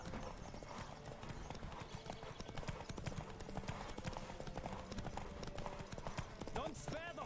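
A horse gallops in The Witcher 3, a fast, continuous clip-clop of hooves that runs throughout, with a whinny near the end and speech over the top.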